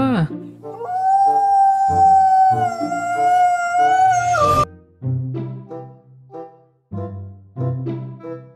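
A toy wolf gives a long electronic howl for about four seconds, loud and close, followed by a series of short, choppy electronic sound bursts.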